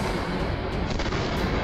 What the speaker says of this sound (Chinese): 外面的爆炸声啊一直在响，每一次爆炸都伴随着掩体的震动。